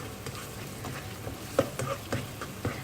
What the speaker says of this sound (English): Saute it well.